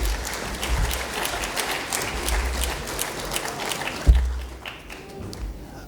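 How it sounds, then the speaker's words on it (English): Audience applause fills a conference plenary hall, dense and steady clapping from a large crowd that swells briefly near the end with a thump before fading slightly. "Please give them a round of applause"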